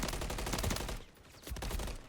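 Rapid bursts of gunfire in the video game Call of Duty: Modern Warfare III during a competitive match, dense overlapping automatic shots, loud and close, then a brief lull before another burst.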